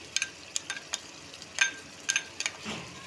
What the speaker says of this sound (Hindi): ये जो हमने प्याज रखी है पीस के, ये आपने इसमें ऐड कर देनी है इस पॉइंट पे आके